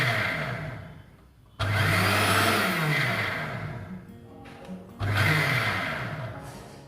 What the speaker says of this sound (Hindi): वापस से हम इसे 4 से 5 बार पल्स मोड पर मिक्स करेंगे।